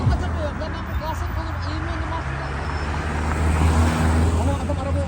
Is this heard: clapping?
no